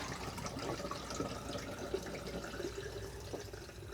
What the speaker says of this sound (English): pour the developer down the drain